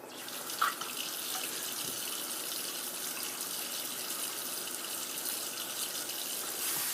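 Water runs steadily from a sink tap while a bar of Stirling Glastonbury shaving soap is rinsed, a constant close splashing stream with a faint knock near the start.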